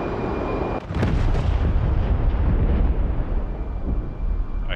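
Distant explosion in the DCS World flight simulator, with F-16C Viper and A-10 Warthog jets involved: a sudden heavy rumbling boom that rolls on and fades slowly, with no one talking over it.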